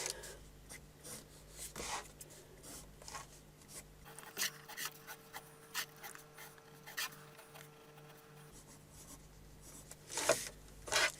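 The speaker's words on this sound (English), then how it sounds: "Now I'm going to draw the other half." A pencil sketching freehand on paper for an engineering orthographic drawing, soft scratchy strokes in short bursts and pauses, close and quiet, with a faint steady hum underneath.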